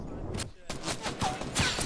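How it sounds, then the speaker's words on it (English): Gunfire in a Fortnite match, rapid volleys of shots in bursts with a short pause, mid-distance and loud, mixed with faint game ambience. "Oh, I know there's more people shooting"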